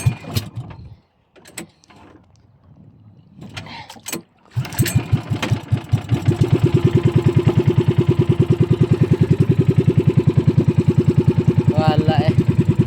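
A fishing boat's engine starts after a few scattered knocks and then settles into a loud, steady, rapid chugging idle close by, with a brief voice heard near the end.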